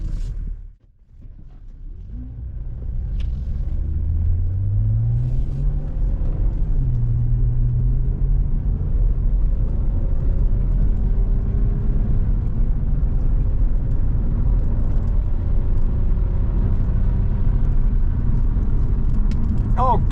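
Cadillac BLS with a 2.8 V6 turbo engine under light throttle while driving, giving a steady loud low rumble with a rising engine tone early on, continuous throughout.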